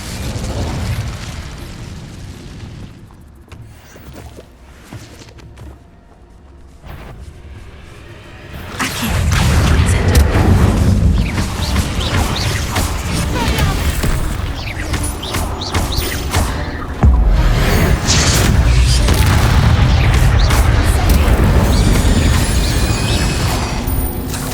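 Casting the Incendio fire spell in the Hogwarts Legacy video game sets off loud, sustained roaring flames and explosive bursts with whooshes, after a quieter rumbling passage of game effects.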